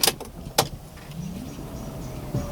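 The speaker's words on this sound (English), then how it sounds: "I can hear the pump going." A 2001 BMW E39 525i with a fault that makes the engine start and cut out or not start has its fuel pump running: a faint, steady electric whine under a few sharp clicks and knocks near the start.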